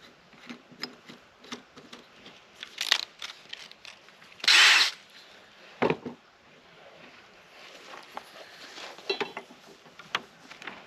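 A power drill with a 3/8 bit whirs in a couple of short bursts, drilling into a wood log for shiitake mushrooms, amid clattering handling noises and rustling outdoors.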